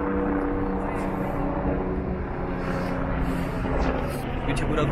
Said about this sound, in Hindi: हेलीकॉप्टर आजू बाजू में उड़ रहे एक्चुअली